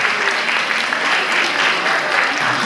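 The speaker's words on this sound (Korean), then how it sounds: "다시 한번 큰 박수를 부탁드립니다." Dense, loud, sustained clapping fills the hall at the opening ceremony of the 2023 10th Gyeongju International Minhwa Forum, continuing evenly throughout without a break.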